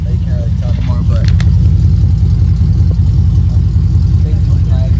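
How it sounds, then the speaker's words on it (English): A 2006 Chevy Silverado crew cab with long tube headers idles with a loud, close, throbbing exhaust burble that holds steady throughout, with a few faint voices in the background. "basically my exhaust right there."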